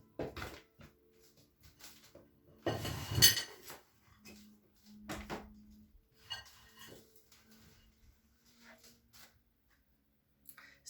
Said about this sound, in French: une petite assiette en céramique qui a le don de pivoter